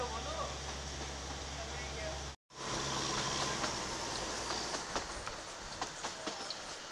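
A swaying toy train rolls along with steady clickety-clack and rumbling wheels, loud and continuous with a brief cut midway, and voices talk over it.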